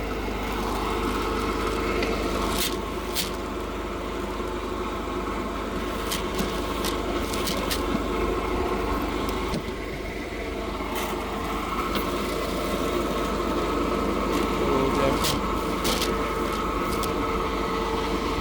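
A tractor engine running steadily during maize sowing on a farm, a constant loud low rumble with a droning mechanical hum and occasional clanks, no talk.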